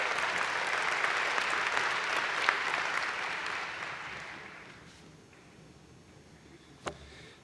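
Sustained audience applause at a winter commencement ceremony, loud and dense at first, then thinning and fading out, with a single sharp clap near the end.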